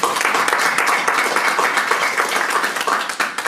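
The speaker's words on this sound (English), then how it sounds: "So can you give them a round of applause?" An audience at a school board meeting applauds, a dense, steady burst of many hands clapping in a room that tapers slightly at the end.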